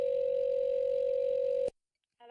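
A telephone dial tone after a hang-up, a steady unbroken tone that cuts off abruptly, followed by silence and then a faint burst of sound.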